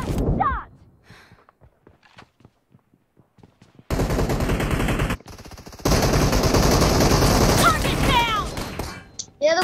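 M4 rifle fire in the mobile battle royale BGMI: scattered single shots early on give way to long, loud sustained automatic bursts, with a voice heard briefly at the start and near the end.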